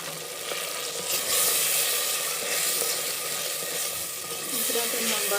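Pieces of tinda (round gourd) dropped into a hot pan for aloo tinda sabzi, a loud continuous sizzle and hiss of frying with faint stirring scrapes.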